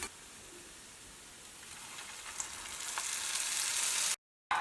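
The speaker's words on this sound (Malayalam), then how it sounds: "തേങ്ങക്കൊത്ത് നന്നായിട്ട് മൊരിഞ്ഞിട്ടുണ്ട്." Steady sizzle of coconut pieces frying in ghee, a soft crackle slowly building in intensity, then cutting out briefly near the end; no talking.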